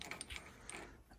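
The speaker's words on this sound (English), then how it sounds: "All right, so we're gonna take the 30 millimeter castle nut off." A ratchet wrench clicks while loosening a 30 millimeter castle nut on a Honda Talon's wheel hub during a brake upgrade, giving a faint, quick series of close mechanical ticks with no talking.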